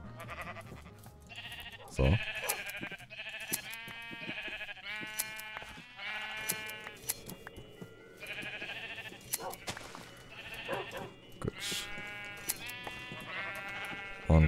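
Sheep in Minecraft bleat repeatedly, several wavering calls spread across the stretch at moderate volume, with a brief spoken word and soft game clicks in between.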